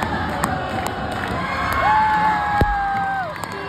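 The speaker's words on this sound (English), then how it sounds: "Every time you come out here, you see everybody every single time, and they're cheering hard." Crowd in a small Eastern Oregon town cheering and whooping at a boys basketball game, loud and sustained with shouting children and a few whistles.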